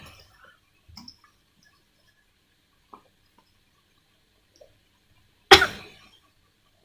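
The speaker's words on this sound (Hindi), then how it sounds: "मुझे ये नहीं समझ में आ रहा है कि बर्ब्स आने के बाद खांसी क्यों आ रही है।" A single sharp cough bursts out loud after near silence with a few faint clicks, tailing off quickly.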